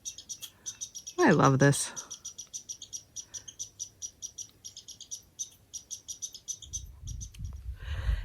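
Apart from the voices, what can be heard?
squirrel chirping angrily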